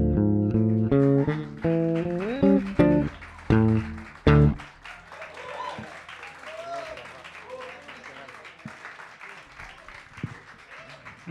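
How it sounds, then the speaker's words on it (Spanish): A live song in a bar ends on a few final instrumental notes, then the audience breaks into scattered, moderate applause mixed with voices and crowd murmur. "Un aplauso para Lautaro."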